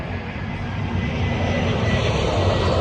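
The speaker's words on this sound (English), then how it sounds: "A320 is coming over Finnair. See that? It's going to come somewhere up here." Finnair Airbus A320 airliner passing overhead, a steady loud broadband engine roar that builds slightly and holds throughout with no talk.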